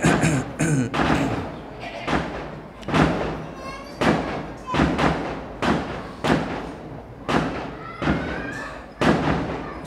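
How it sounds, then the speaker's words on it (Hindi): Firecrackers burst in a rapid irregular series of loud, sharp thuds, about a dozen blasts spread across the stretch, each with a short echoing tail. "सेवा के पहले पटाखे बज"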